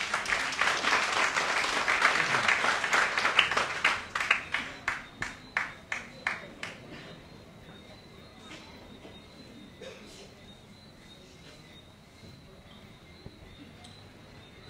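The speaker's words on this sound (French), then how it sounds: "On peut l'applaudir, merci." Applause from an audience at an official memorial ceremony for Haiti's president in French Guiana, dense at first and then thinning to scattered individual claps before fading into quiet room sound.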